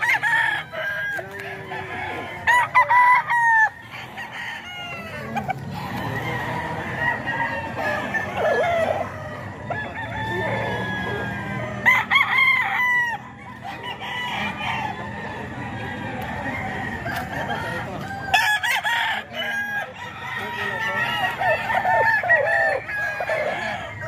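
Young gamecock stag roosters crow repeatedly at a cockfighting farm in Bocaue, with long drawn-out calls overlapping and clucks in between, some birds near and others farther off.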